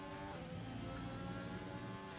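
A Racing Point Formula 1 car in an F1 video game at the Austrian Grand Prix, its engine holding a high, steady whine at speed on a straight, faint and unbroken for a couple of seconds.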